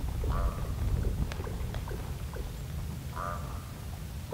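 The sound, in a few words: ravens calling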